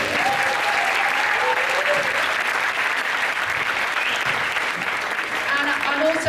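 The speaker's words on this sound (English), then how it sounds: "Big round of applause." A large audience applauds steadily at a Day of the Dead festival talk, with dense, sustained clapping at full strength throughout, with a few faint voices or whistles threaded through the crowd noise.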